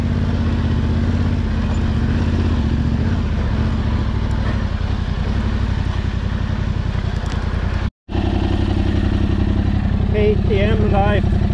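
A KTM enduro motorcycle engine runs loud and close with a steady rumble, cuts out briefly and then picks up again, and a voice speaks over it near the end.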